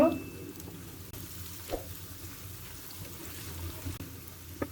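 Onions fry in a pan for chicken curry with fennel, giving a faint, steady low sizzle with a few soft stirring knocks, heard close by.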